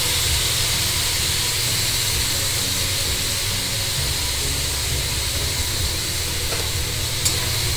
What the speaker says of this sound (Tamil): ஸோ இந்த எண்ணெயிலே தக்காளி வந்து நல்லா வதங்கட்டும்